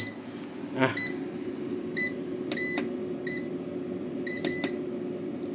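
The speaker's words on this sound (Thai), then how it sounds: "ไอ้ศูนย์สี่นี่คือแจ้งเตือนแบตเตอรี่ต่ำนะครับอย่าตกใจนะ มันไม่ใช่การเออร์เลอร์" A hybrid solar inverter (3500 W, 24 V) sounds its low-battery alarm, several short sharp beeps in spaced pairs and clusters over a steady fan-like hum, fairly close and with no talk.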